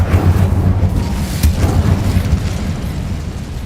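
An Incendio fire spell is cast in the Hogwarts Legacy video game, giving a loud, deep whooshing burst that rumbles on steadily and fades a little toward the end, with no voices.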